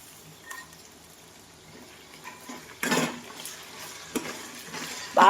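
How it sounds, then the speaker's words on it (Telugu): Chicken fries in a pan as ginger garlic paste is stirred in, a soft low sizzle broken by a few louder scraping stirs and clinks of a utensil against the pan. "చికెన్ చూడండి చక్కగా వేగిపోయింది కదా. ఇప్పుడు మనం అల్లం వెల్లుల్లి పేస్ట్ వేసేసుకోవాలి."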